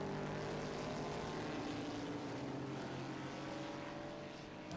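Vintage and modern race cars run on the track at Laguna Seca, a steady, distant engine drone with layered tones that fades slightly toward the end, with no clear talking.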